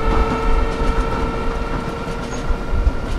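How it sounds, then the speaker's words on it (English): Amtrak passenger train rumbling past in a train simulator game, a steady mechanical rolling roar with faint rail clatter and a sustained low drone, fairly loud throughout with no talking. "Is that my train?"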